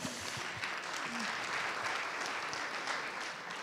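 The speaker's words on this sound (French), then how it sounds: "On les applaudit." A crowd applauding steadily at a business pitch event, dense clapping filling the room, with a few voices faintly audible underneath.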